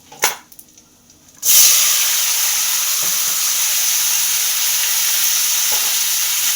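Panch phoron whole spices, bay leaf and dried red chilli hit hot oil in a pan with a sudden loud sizzle that holds steady and crackles close by, after a brief quieter clatter at the start.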